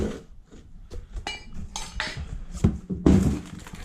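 Metal car parts, including an oil pickup tube and a rear sump pan for a 2JZ engine swap into an RX8, clink and clatter as they are handled, with scattered knocks building to louder metallic clanks near the end.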